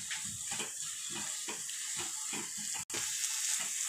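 Onion and tomato gravy with chili powder sautés in a pan for channa masala, a steady close sizzle with rhythmic stirring scrapes about every half second and a brief dropout near the end.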